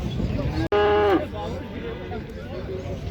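A bull at a busy livestock market near Uzynagash, Almaty gives one loud, close, drawn-out moo amid a background of crowd chatter and general market noise.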